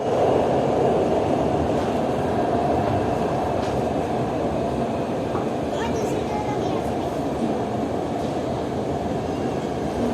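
Orange Line metro train in Lahore running steadily, with a continuous loud rumble and roar, faint rail clicks and occasional squeal on top, while an announcement voice is faintly present.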